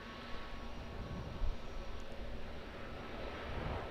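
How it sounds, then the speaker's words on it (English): An all-black Airbus A321neo lands at Auckland Airport as a faint, distant, steady engine roar blended into broadband noise, with no speech. "ZK-NZE, the all black Airbus A321neo."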